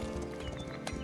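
Horse in a medieval castle-building game gives a loud close neigh over a steady clip-clop of hooves, the whinny rising briefly near the end of a short burst.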